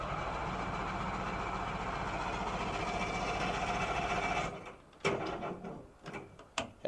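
An old outboard engine on a cheap fishing boat grinds and churns steadily on a weak 7-volt battery for several seconds, then stops abruptly, leaving a few sharp mechanical clicks and knocks.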